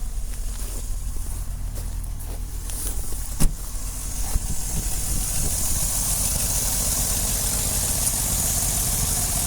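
A 1985 Toyota Land Cruiser FJ60 idles steadily on a cold start, its engine holding a constant low rumble close by, with a couple of brief sharp clicks early on and no talking.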